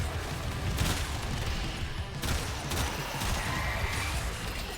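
Gunfire and headshots in Warframe, a steady dense stream of shots and impacts running through the clip at an even loudness, with no talk over it.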